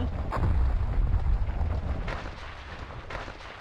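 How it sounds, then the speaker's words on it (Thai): Deep, rumbling booms from a Roblox Natural Disaster Survival meteor strike roll through a continuous low roar, loudest early on and easing off, with no voices. "อะไรระเบิดอ่ะ"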